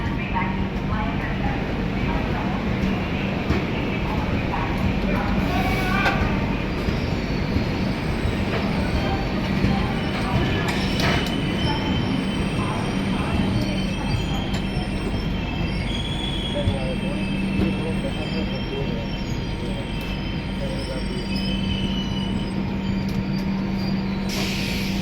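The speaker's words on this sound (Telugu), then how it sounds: "ఒక స్పెషల్ ట్రైన్కి వ్యాప్ 7 లోకోమోటివ్ పెట్టడమే రేర్" A WAP-7 electric locomotive hauls a special train in a steady, loud rumble of rolling rail cars, with high metallic wheel squeal rising and falling throughout and a few faint voices underneath.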